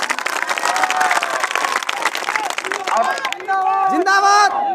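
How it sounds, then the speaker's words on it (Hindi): A crowd at a public gathering bursts into sustained clapping and cheering, loud and dense throughout, with a few raised voices and shouts rising over the applause toward the end. "अगर है तो तालियां दीजिए सब लोग।"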